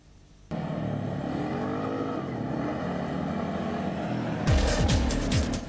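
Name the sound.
Kymco quad ATV engine riding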